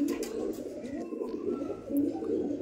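Rampuri pigeons cooing in a low, steady, rolling drone that runs continuously without pause, with faint higher chirps scattered above.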